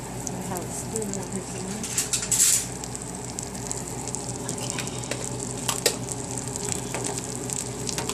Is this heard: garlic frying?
yes